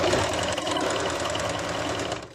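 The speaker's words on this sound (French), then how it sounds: "On le met sur la bordure, histoire que ça tienne, et on le coud." A sewing machine stitches elastic onto the edge of a fabric face mask, a close rapid mechanical chatter running steadily, then tapering at the end.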